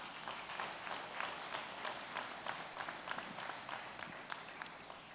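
Church congregation applauding together after a sermon line, a steady broad wash of many hands clapping at moderate level, fairly distant and continuous without voices.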